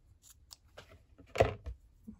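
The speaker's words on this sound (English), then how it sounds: "I think I'm gonna cut it off right about here." Scissors cut paper for a belly band, a few faint snips building to one louder close crunching cut, sparse and brief in a quiet room.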